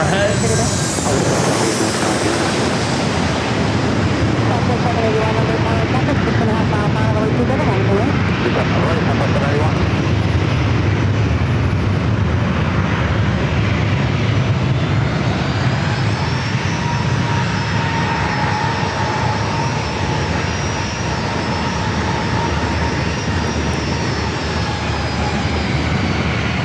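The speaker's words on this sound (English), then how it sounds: "we do have a Southwest flight about to fly over our heads" A Southwest Airlines jet passes overhead near San Diego airport, a loud, close roar that builds and then settles into a whining, tonal rumble as it moves off, with voices talking over it.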